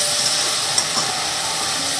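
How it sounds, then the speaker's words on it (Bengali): A Bengali masala spice paste fries in a pan with roasted cumin powder added, giving a loud, continuous sizzle with soft scraping from stirring throughout. "এবার আমি এর মধ্যে খানিকটা ভাজা জিরে গুঁড়ো দিয়ে দিচ্ছি। আবারও খুব ভালো করে নাড়তে হবে।"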